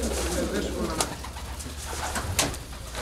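Pigeons coo inside a loft, with repeated soft, throaty calls rising over a busy background of bird noise and a low rumble, close and fairly loud.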